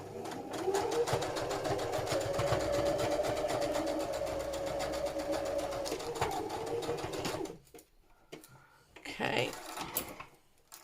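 A sewing machine runs a steady zigzag stitch through a bohemian vintage junk journal, whirring continuously and loudly up close for several seconds before stopping, followed by a brief remark from a woman.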